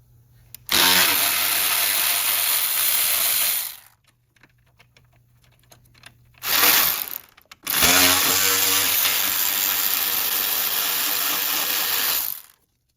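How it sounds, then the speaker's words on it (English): A power ratchet removes the bolt on the steering line bracket of a BMW E60 M5 subframe, whirring loudly and close in three bursts: a long run, a brief spurt, then another long run. "we're going to have to remove the bolt for the steering lines on the bracket here"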